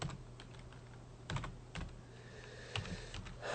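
Keys clattering on a computer keyboard during a software setup, a steady run of quick clicks with a few heavier keystroke bursts, close and fairly quiet, with no talking.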